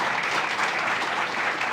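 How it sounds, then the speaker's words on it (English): A crowd at the grand opening of the Constellation Brands headquarters in Rochester gives Mayor Malik Evans a round of dense, even applause, loud and continuous throughout. "Let's give another round of applause to Mayor Malik Evans for all he does."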